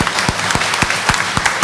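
A church congregation claps in a steady, rhythmic beat of sharp, close hand claps during worship, the applause filling the space without words.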